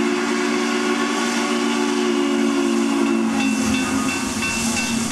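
A 1943 ALCO steam locomotive lets out a loud, steady steam whistle over a continuous hiss of escaping steam, holding strong and unbroken for the full five seconds.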